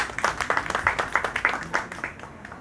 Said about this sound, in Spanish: Un fuerte aplauso, por favor.